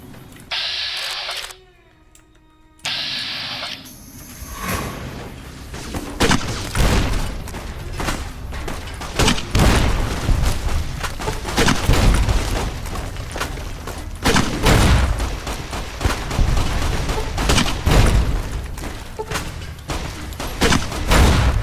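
Grenade launcher explosions and gunfire in the video game Fallout: New Vegas, a dense, loud, continuous barrage of booms and blasts after a brief quieter moment at the start, with no voices.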